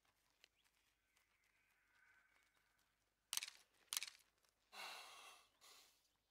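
A white goat in the hunting game theHunter: Call of the Wild gives a few short, fairly loud bleating calls after a quiet stretch of faint ambient game sound.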